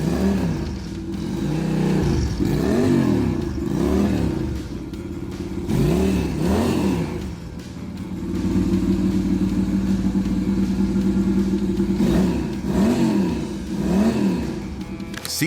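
A 1970s Moto Morini 3.5 350 motorcycle revving its exhaust, repeated rising and falling blips followed by a sustained held rev, loud and close, with no talk.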